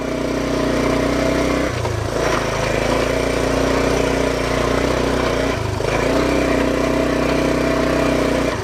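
A Honda CT110 trail bike's small single-cylinder engine drones steadily and loudly while climbing a rough forest trail in Kaibab National Forest, with two brief dips in pitch as the load changes.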